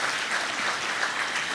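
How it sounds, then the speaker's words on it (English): Audience at a mayors' summit presentation gives a steady, dense round of applause, close and fairly loud throughout without breaks. "Let's give Christina a round of applause."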